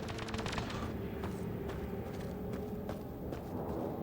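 A quick series of gunshots in the video game Mass Effect Andromeda crackles through a busy game soundscape, several sharp cracks clustered early and more scattered later, with no one speaking.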